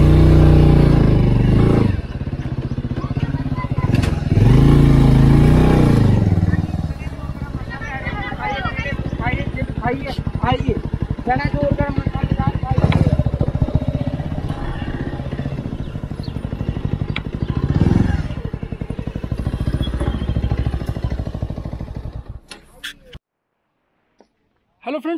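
A Bajaj Avenger Cruise 220 motorcycle rides along, its engine a loud, close, continuous drone with occasional revving swells, some talk over it, before cutting out near the end.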